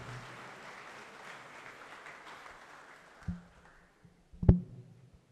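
Applause from an audience at a university orientation event, a broad steady patter fading out over several seconds, followed by a couple of louder thumps near the end.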